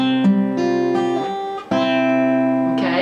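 Guitar plays the intro of a song, with a few ringing picked notes and chords that overlap and sustain. A sharper strum comes midway, and the sound is close and clear with no talking.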